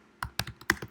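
Typing on a computer keyboard during a Node.js workshop, heard as five quick, close, soft key clicks in an uneven rhythm against near silence.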